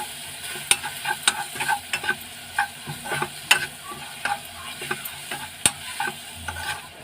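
A spatula stirs salt, turmeric, chilli and coriander powder into a frying mixture for a prawn dish, giving repeated close scraping clicks against the pan over a light sizzle, without any voices.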